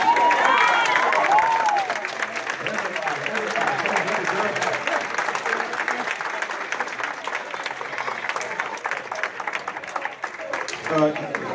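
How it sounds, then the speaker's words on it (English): An audience in a large building gives sustained applause with some cheering, the clapping dense and steady throughout, with voices mixed into the crowd noise. "I think I need everybody in this building to stand up and give him a round of applause"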